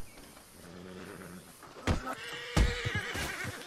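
A horse in a video game neighs twice, with a sharp whinny followed by a second, longer one, rising clearly over a steady bed of game ambience.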